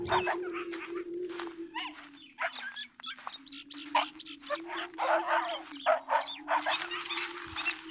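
Dogs bark in quick, repeated bursts in a rural Tirunelveli setting, fairly close and loud, over a steady low drone.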